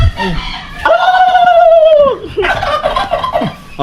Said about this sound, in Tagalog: Sumasagot din yung pabo eh.